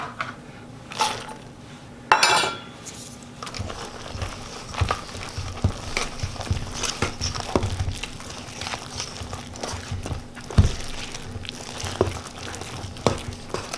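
A spoon stirring dried cranberries into thick muffin batter in a bowl, giving soft, steady scraping and occasional clinks against the bowl's side, with no one talking.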